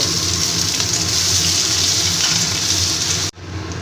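Small chopped onions fry in a pan with spices, making a loud, close, unbroken hissing sizzle that cuts off abruptly near the end and resumes more quietly.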